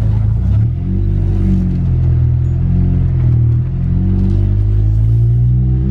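A Ford ST's engine pulls away with a deep, loud, steady rumble close by, its low note shifting slightly in pitch as it moves off, with no talking.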